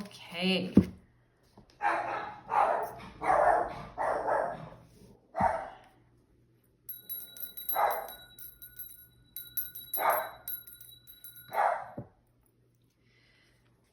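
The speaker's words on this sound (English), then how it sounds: "maybe you can hear my wondrous puppy barking a little bit in the background there." A puppy barks a few times in the background, faint yips and barks heard beneath a person talking close up.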